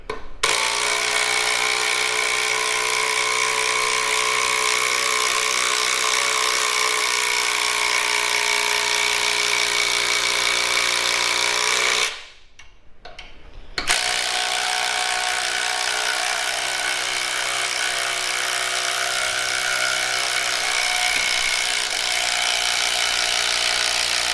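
A Ryobi electric drill whirs steadily at a high pitch, stops briefly for about a second, then spins up again and runs on without a break.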